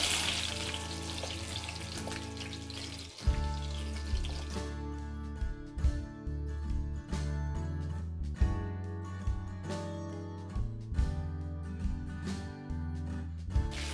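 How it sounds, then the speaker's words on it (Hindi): Mutton ribs fry in a pan for Kashmiri tabak maaz, a steady crackling sizzle with scattered pops and a few louder spits and clatters as they are turned, and no talk. "जब तक ये ऊपर से एकदम क्रिस्प ना हो जाए तब तक इसको आप फ्राई करते रहिए।"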